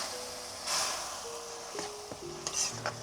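Spice tempering sizzling for a black crab curry cooked over a wood-fired chulha, a soft ongoing sizzle with brief bursts of hiss and a few light clinks of stirring.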